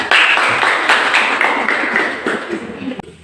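A classroom audience applauds after a group presentation, a short burst of dense clapping that fades out within a few seconds.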